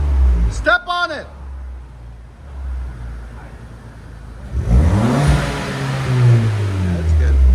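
A 2013 Ford Fusion 1.6L EcoBoost with a muffler delete idles low and close, then its exhaust swells into a long, loud rev in the second half, after a brief high chirping sound at the start.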